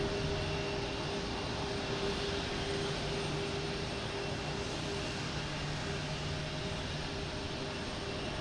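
A Lufthansa airliner passes close at Boston Logan, giving a steady, dense engine roar with a faint whine held throughout.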